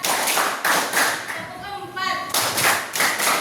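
A classroom of children claps in a counting routine, bursts of sharp group claps in a steady rhythm broken by a short pause where a voice speaks, then clapping resumes.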